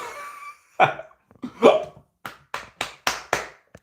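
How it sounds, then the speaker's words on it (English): Repeated sharp hiccups, about six of them in a quick run near the microphone, preceded by a couple of breathy vocal sounds with no talk. "Hiccups."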